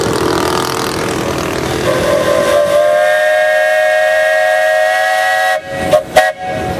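A steam traction engine's whistle sounds at a steam threshers' show in Darke County, one long steady shrill blast that holds for several seconds before stopping, followed by brief clattering noises at the end.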